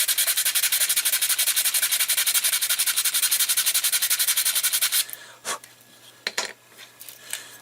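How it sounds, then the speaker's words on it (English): Sandpaper smooths the channel of a 3D-printed filament loader in fast, even rubbing strokes for about five seconds, then a few scattered light scrapes and handling taps. "I'll take a little sandpaper and just make sure that that's"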